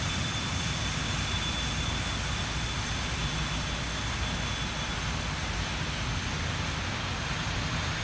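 A BAe 146 jet in X-Plane 11 produces a steady, broadband engine roar with a faint high whine, holding a constant level with no talk.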